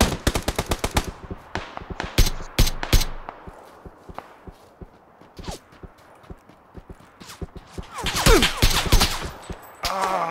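Gunfire in a battle royale game, with rapid automatic bursts of sharp cracks at the start, scattered single shots in the middle and a denser, louder volley near the end.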